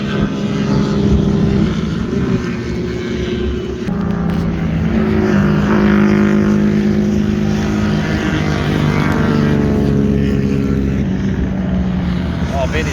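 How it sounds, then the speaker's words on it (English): Vintage road racing motorcycles circle the track at Daytona International Speedway during an AHRMA event, a loud continuous drone of engines with rising and falling tones as bikes pass, mixed with crowd and wind noise throughout. "the road racing bikes that are out on the track right now"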